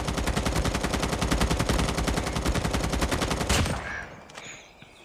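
Rapid automatic gunfire from a shooting video game, a long dense burst of evenly spaced loud shots lasting over three seconds, then cutting off into a quieter tail with scattered faint effects.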